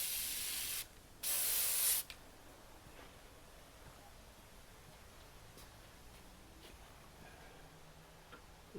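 Two loud hissing bursts of silicone aerosol spray close by on a John Deere 1025R tractor seat suspension part, each about a second long, then quiet with faint clicks and handling noises.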